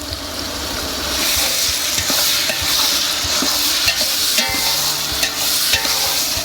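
Onions and tomatoes frying in a pan for a Tamil seafood masala, with a continuous loud sizzle and repeated scraping stirs and clinks of the spoon against the pan, and no voices.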